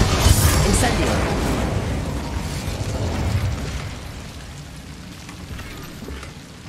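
A fiery Incendio spell blast from the Hogwarts Legacy game erupts loudly at the start, then rumbles and crackles under a continuous wash of combat noise that slowly fades.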